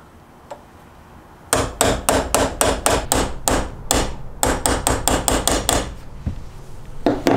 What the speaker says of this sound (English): So I screw this in, take a hammer